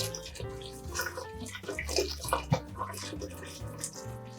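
Pre-boiled water is poured into a cooking pot for vegan ramen broth, a gurgling, resonant splash with shifting tones that swells and fades over a few seconds.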